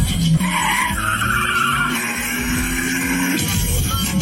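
A car in an action film scene swings through a sharp turn, tires skidding and squealing in a sustained screech over dense scene noise and engine sound.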